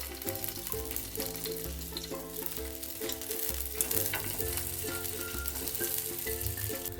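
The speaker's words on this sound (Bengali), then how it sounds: "এইগুলো আমি একটা একটা করে এভাবেই তাওয়ার মধ্যে সেঁকে নেবো ভালো করে" Spiced capsicum and onion pieces roasting on a hot tawa griddle, a steady close sizzle with occasional stirring and scraping, sounding alone throughout.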